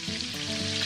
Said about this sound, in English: And now we sizzle.